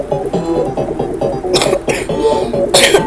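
Several sharp coughs and throat clearings burst out close to the microphone over a busy bed of game music and sound effects.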